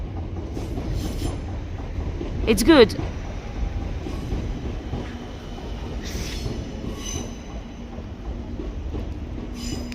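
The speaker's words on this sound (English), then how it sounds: "there was a train above us" Train rumbling overhead in Lambeth, London, a continuous low rolling rumble with a brief wheel squeal and rising whine near the three-second mark, heard from below alongside a short spoken remark.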